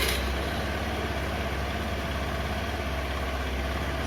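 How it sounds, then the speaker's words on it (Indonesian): A motorcycle engine runs at idle, a steady low rumble with an even throbbing pulse, close and loud throughout the short stretch, with no voices. "posisikan saklar ke on dan kita coba untuk menghidupkan mesin"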